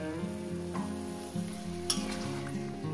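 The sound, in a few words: sautéing beans with ground spice paste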